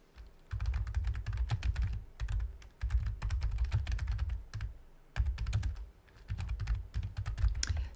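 Typing on a computer keyboard during spreadsheet work, a close, steady patter of soft keystrokes in several bursts separated by short pauses, with a muffled low thump under the clicks and no talking.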